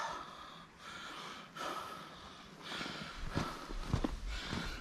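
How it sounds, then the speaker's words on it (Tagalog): Heavy panting and breathing from someone walking through a cave, with quiet footsteps and faint rustling close by, the breaths growing louder and more laboured toward the end. "Hinihingal na ako."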